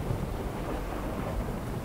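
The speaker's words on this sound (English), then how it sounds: "Storm is getting worse." A storm in the video game Bermuda Lost Survival: a steady, dense roar of heavy rain and wind with a low rumble underneath, continuous and loud, with no voices.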